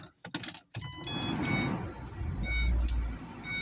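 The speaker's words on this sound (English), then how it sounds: "Let's move the car." A car is being moved: keys jangle and a door clunks shut close by, then an engine starts and idles low and steady as the car gets under way, fairly quiet overall.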